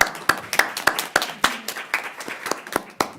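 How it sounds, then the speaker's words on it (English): Sparse, sharp hand claps in a quick uneven rhythm, a small group applauding nearby with no talking. "give a huge round of applause to an incredible woman"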